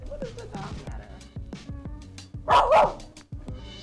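A dog barks repeatedly in short, sharp, close barks at a rapid, irregular pace, with a louder burst of noise in the middle.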